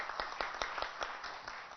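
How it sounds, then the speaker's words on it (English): Audience applause at a business association meeting in a hotel: a thin, fairly close patter of individual claps in quick, regular succession, moderately quiet, with no talk over it. "A big round of applause for him"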